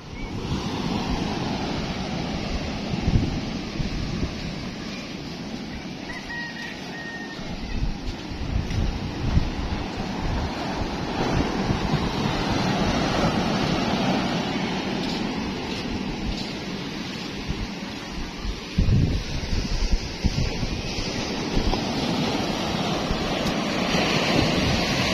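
Big waves crash and surge at a river mouth, a loud, continuous roar of surf and wind that swells and breaks repeatedly near the microphone, with no clear speech.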